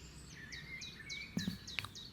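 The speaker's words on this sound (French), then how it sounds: "Peut-être entends-tu des oiseaux qui chantent." Birds sing in a garden, a faint repeating series of short chirps with a few sharper calls and light clicks, quiet and somewhat distant.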